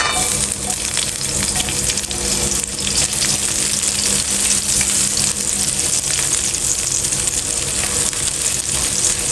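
Garlic hitting hot cooking oil in a pan for paksiw na pata sizzles and crackles steadily and loudly throughout, a continuous close-up frying hiss with no talking.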